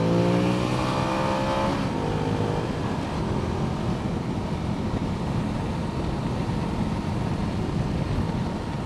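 A 2015 Ducati Multistrada 1200S DVT engine while riding. The engine note is steady and loud, its pitch rising briefly at the start, under a constant rush of wind noise.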